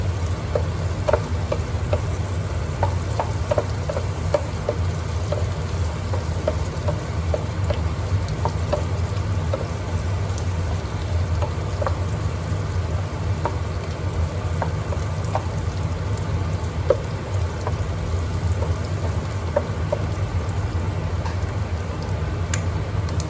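Vegetables frying in spattering cooking oil in a pan while making adobong sitaw, a steady close sizzle with scattered crackling pops throughout, no talking.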